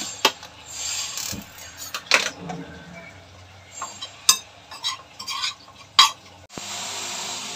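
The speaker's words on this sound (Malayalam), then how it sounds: "മഞ്ഞൾപ്പൊടി, ഉലുവാപ്പൊടി, മല്ലിപ്പൊടി, മുളക് പൊടി ഇതൊന്ന് ചൂടാക്കി എടുക്കട്ടെ" Turmeric, fenugreek, coriander and chili powders dry-roasted in a pan, heard as intermittent scraping and stirring against the metal, with clattering utensil knocks and faint sizzling.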